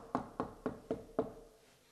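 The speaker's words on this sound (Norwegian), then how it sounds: "Da stender folk og banker på døra." Five sharp knocks on a door in a quick, slightly uneven series, then quiet, heard alone and fairly faint.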